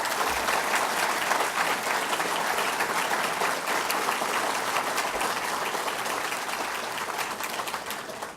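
Dinner audience at a Lincoln Day event applauding a singer, sustained dense clapping that holds steady for several seconds and tapers slightly toward the end.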